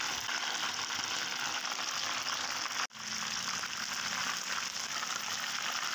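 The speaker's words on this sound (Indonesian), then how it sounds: "Setelah satu jam, nah ayamnya ini kita akan goreng." Marinated chicken pieces fry in a pan of hot oil for homemade butter fried chicken, a steady close crackling sizzle that holds throughout with one brief dip midway, and nobody speaking.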